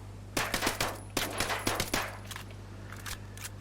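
A suppressed P320 pistol fires rapidly in the video game Ghost Recon Breakpoint, with two quick bursts of about five muffled cracks each, then fainter scattered shots over a steady low hum.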